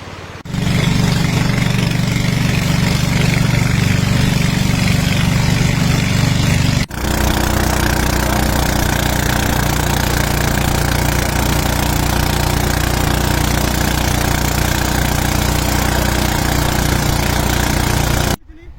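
A boat's motor idles close by with a loud, steady, low rumble and knocking, briefly dropping in level midway and cutting out just before the end.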